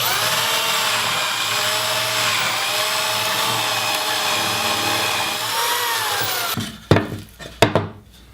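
A handheld power drill with a 1.25 inch Forstner bit bores into a wooden birdhouse front panel, giving a steady, close whirring grind for several seconds before it stops. A few sharp knocks and clatters follow.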